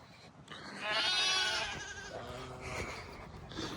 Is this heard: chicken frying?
no